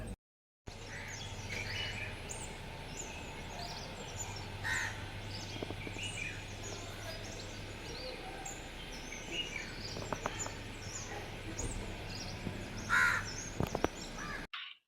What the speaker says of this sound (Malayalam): കിളികളെ ഒച്ചയും മുളിയൊക്കെ കേട്ടാലേ